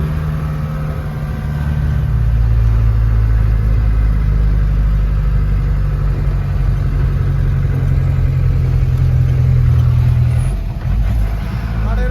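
A car engine climbs a mountain road from Siliguri up to Darjeeling, making a steady, loud low drone with a constant hum that holds for the whole stretch and eases slightly near the end.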